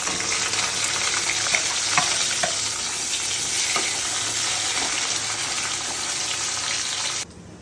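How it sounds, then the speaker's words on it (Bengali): Chopped onions fry with whole cardamom, cloves and cinnamon in a pan for a country chicken curry, giving a loud, continuous close sizzle with occasional stirring scrapes and no talk. "পেঁয়াজটা মোটামুটি ভাজা হয়ে আসলে আমরা এই চিকেনটা দিয়ে দেবো।"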